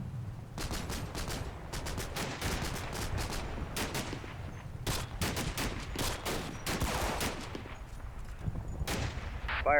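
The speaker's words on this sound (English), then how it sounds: "Fire for effect. Over. Okay, the 81mm mortars are ready." Repeated 81mm mortar and gun reports from a Combat Mission Battle for Normandy battle, loud sharp bursts in irregular clusters, some overlapping in rapid volleys, with no talk over them.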